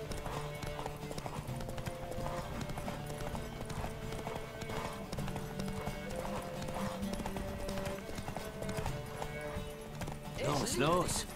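Horse hooves galloping in The Witcher 3, a steady rapid clip-clop rhythm running throughout under game music, with a brief whinny near the end.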